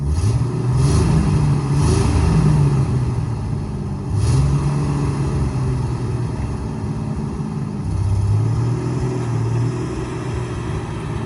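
Chevrolet Silverado cat eye truck, likely with a 5.3 engine, running at a Copart salvage yard, a steady close idle with a couple of rising revs that swell and settle, no talk over it.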